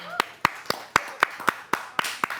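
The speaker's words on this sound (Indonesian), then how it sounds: "tepuk tangan dong." Studio audience on a television talk show clapping in sharp, evenly spaced claps, about ten distinct hits in a steady rhythm, close and clear with faint background voices.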